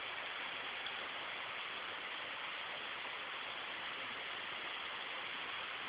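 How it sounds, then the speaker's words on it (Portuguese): Waterfall roaring as a steady broadband rush of falling water, very faint and distant, with no voices heard. "Tchau, cachoeira!"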